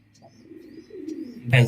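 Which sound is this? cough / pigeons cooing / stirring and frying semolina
pigeons cooing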